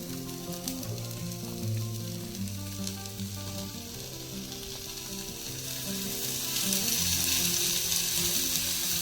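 Onion fries in hot oil in a pan for a wild-vegetable dish, a steady close sizzle that grows slightly louder near the end, with faint music underneath.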